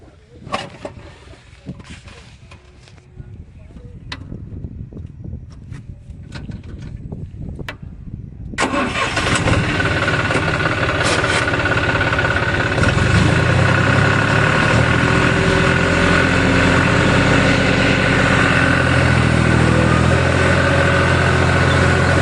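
A Mahindra tractor engine is started with the self-starter after priming, first quiet clicks and fumbling, then a sudden catch into a loud, close, steady diesel rumble that keeps running during wheat sowing.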